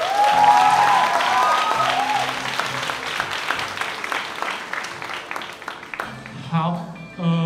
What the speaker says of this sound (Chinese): 大家给他一点掌声好不好？